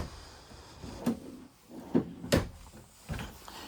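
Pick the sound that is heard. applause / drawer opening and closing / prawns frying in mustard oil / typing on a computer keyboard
drawer opening and closing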